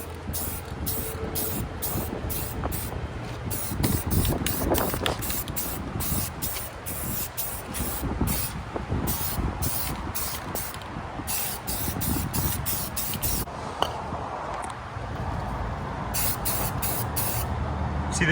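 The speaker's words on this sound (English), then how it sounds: "Just gonna hit it with some Rust-Oleum Ultra Matte." A can of Rust-Oleum Ultra Matte spray paint hisses in quick repeated bursts, close and steady, as a 16 ft jon boat part is coated in a garage, with no talking.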